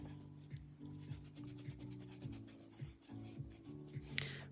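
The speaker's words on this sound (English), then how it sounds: "I'm just going to remove this inhibition layer" Gel nails being wiped with Pro Cleanser to remove the inhibition layer, giving faint, repeated soft rubbing strokes in a quiet room.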